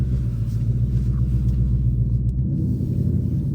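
Deep, steady exhaust rumble from a 2023 Ford Mustang GT V8 in track exhaust mode, loud and close, idling and cruising with a continuous low burble that shifts slightly in pitch partway through.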